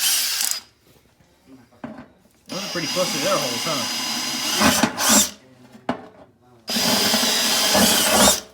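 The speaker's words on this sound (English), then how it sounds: "Let's get the drilling." A power drill whirs in three loud bursts separated by pauses, close by, with someone speaking briefly in between.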